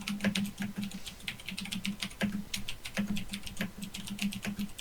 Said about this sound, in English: that's a loud keyboard you have